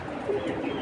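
Racing pigeons, including female birds, give a short soft coo close by, with a low murmur and no talking.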